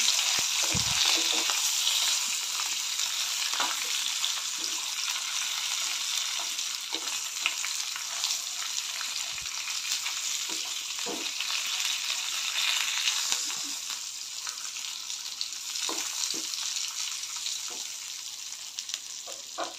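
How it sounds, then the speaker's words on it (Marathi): Masala paste for stuffed capsicum sizzles and sautés in hot oil in a pan, a steady bright crackle with occasional scrapes of a spoon stirring, close and alone without talk. "आधी थोडंसं परतून घेते तेलामध्ये"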